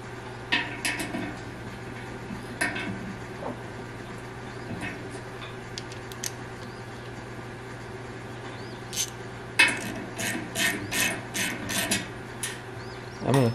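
Sparse metallic ticks and clanks as a forcing screw is turned to push a compressor part out of an old Frigidaire Multicold refrigerator during refurbishment, ending in a denser run of sharp, close clicks.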